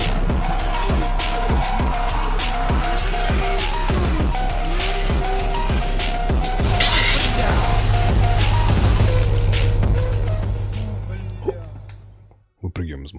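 A car driven in the game GTA Chinatown Wars revs and screeches through repeated tire squeals and skids, loud and busy under steady talk, before a crash-like thump and a cut to near silence at the end.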